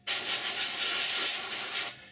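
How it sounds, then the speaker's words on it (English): Steady spray of paint or primer onto the interior of an Eduard 1/48 MiG-29 scale model kit, a continuous close airbrush or aerosol hiss lasting about two seconds, starting and stopping cleanly, with no talk. "So what we're going to do is spray this inside."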